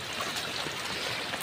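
Floodwater after heavy monsoon rain rushing along a swollen village river or lane in Maharashtra, a steady, close, broadband wash of flowing water with no pauses.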